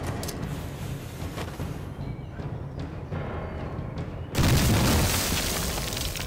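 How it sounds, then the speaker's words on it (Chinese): A hand grenade blows up in a kung fu war film: a dull background hum breaks into a sudden loud, broad boom that lingers as a rumbling roar to the end. "哎，大白，试试手榴弹啊。"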